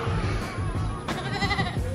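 A small goat bleats close by in a couple of short, wavering calls, with some faint background noise around them.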